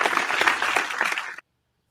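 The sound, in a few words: round of applause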